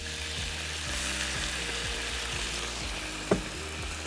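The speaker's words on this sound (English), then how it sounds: "we're gonna deglaze with a little bit of white wine to sort of start creating a nice little sauce" White wine hitting a hot pan of salmon sizzles in a steady, even frying hiss that runs throughout, with one brief sharp tap near the end and no voices.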